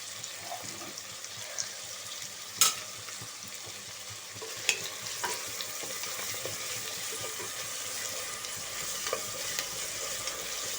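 Onions sizzle steadily in a pan with salt while being stirred for a mutton curry, a continuous close frying hiss with occasional scraping strokes and a few sharp clinks of the spoon against the pan.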